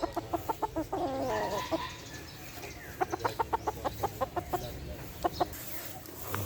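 Boston Gray gamefowl roosters at a game farm cluck in quick rhythmic bursts, a run of repeated clucks near and fairly clear over outdoor background noise, with a pause before another series.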